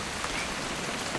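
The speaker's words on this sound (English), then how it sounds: "It's gonna rain the whole weekend, isn't it?" Steady rain patters on surfaces in the video game What Remains of Edith Finch, a dense, even hiss of droplets with no voices over it.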